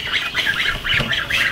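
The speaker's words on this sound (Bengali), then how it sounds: "আমার হাঁসগুলা ডিস্টার্ব করতেছে" Domestic village ducks quack and squawk close by in a rapid, repeated series of loud nasal calls that runs throughout without talk.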